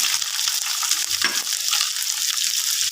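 Peas and chopped onions fry in a pan with boiled chicken, a constant bright hiss of sizzling oil at a steady moderate level with faint stirring underneath.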